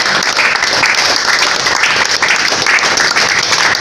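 A church congregation applauding at a healing service, loud continuous clapping from many hands close by, steady throughout.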